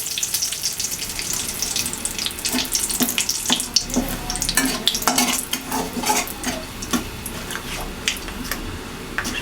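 Dried red chilli split in half and bay leaves, added to oil with chopped onion, fry in a pan with a continuous close crackling sizzle and frequent sharp pops; no one speaks.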